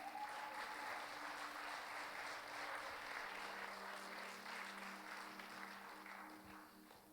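A church congregation applauds and cheers in a steady wash of clapping that gradually fades toward the end, heard faintly and at a distance.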